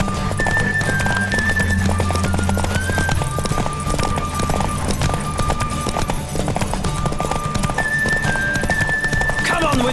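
Rhythmic hoofbeats of a galloping horse with an occasional whinny in The Witcher 3, over a steady game soundtrack with tonal music and effects.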